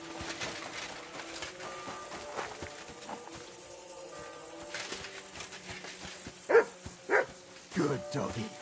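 A dog in the video game Kingdom Come: Deliverance II gives a few short barks fairly close by, late in the scene, over a quiet ambient bed with soft footsteps, bird calls and some talking.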